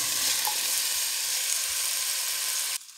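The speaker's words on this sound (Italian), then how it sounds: "Stiamo facendo andare il nostro soffritto, adesso aggiungiamo le nostre patate" Soffritto and potatoes fry in a pan with a steady, loud, dense sizzle and a faint clink near the start, the sound cutting off abruptly just before the end.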